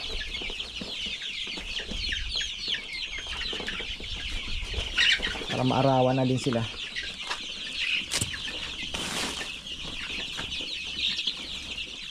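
Chickens cluck and chirp in the background through the whole stretch. A rooster-like call rises briefly midway, and a person speaks quietly at the start.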